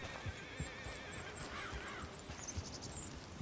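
A horse in the Red Dead Redemption 2 video game whinnies and snorts quietly, with a few soft hoof thuds beneath the neighing.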